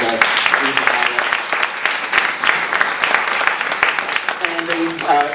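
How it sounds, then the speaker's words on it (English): An audience applauds a guest author at a book talk, with steady clapping that rises and falls. A few voices speak over it near the start and the end. "Please give a round of applause for her"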